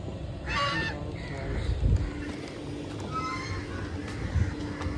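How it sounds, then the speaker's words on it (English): Swans on open water give loud, nasal honking calls in a couple of brief bursts, heard near and clear over a steady outdoor background, with a low rumble and some soft thumps in between. "You can see there are swans over there. A lot of swans."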